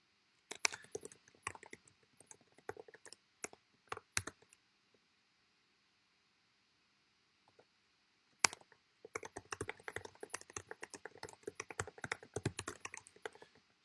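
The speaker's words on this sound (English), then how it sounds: "You can thank Apple for their new clicky MacBook Pro keyboards." Fingers type on a clicky Apple MacBook Pro laptop keyboard: sharp close key clicks come in short bursts with pauses, then a longer, denser run of steady tapping, with no talking.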